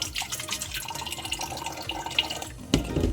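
Water running from a tap into a container on a rainy mountainside in Bacung, Laguna, a steady splashing flow with a sharper knock near the end, close by.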